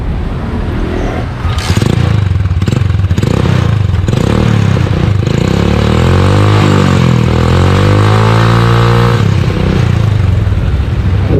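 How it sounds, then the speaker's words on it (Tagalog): A motorcycle engine starts with a few clattering bursts, then runs loudly on its center stand, revving up and down through gears to fourth with a steady mechanical whine. "paandarin mo yung makina ilagay mo hanggang 4th gear"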